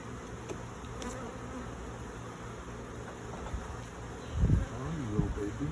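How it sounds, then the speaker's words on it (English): Bees swarming close around a beekeeper keep up a steady, droning buzz that runs the whole time, with a few louder low-pitched passes near the end as insects fly close by. "just these bees flying around me used to irritate me a little bit"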